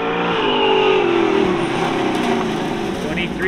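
An autocross race car in the TCI CAM class accelerates through a slalom at the NOS Event Center, its engine droning steadily and loudly with rising pitch while a commentator talks over it.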